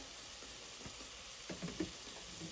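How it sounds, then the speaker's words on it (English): Meat seasoned with pepper and garlic powder frying on an outdoor cooking surface, giving a soft steady sizzle with a few louder crackling pops toward the end, no talking. "you can hear that sizzles"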